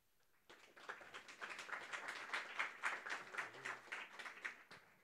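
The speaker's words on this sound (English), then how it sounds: "Let's give a round of applause to our speakers" Audience applause for speakers at a Night of Ideas talk event, a crowd's clapping starting abruptly and holding steady and dense for about four and a half seconds before cutting off, with no talk over it.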